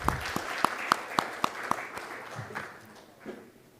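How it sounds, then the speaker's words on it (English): Applause from a conference audience for a speaker at a fintech event, a short burst of sparse, distinct claps fading within a few seconds. "Can we have a round of applause for Mr."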